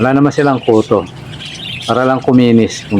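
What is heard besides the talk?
No everyday noises stand out.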